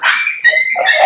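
A Maltipoo puppy gives a few quick, loud, high-pitched yips and barks up close, with no talking in between.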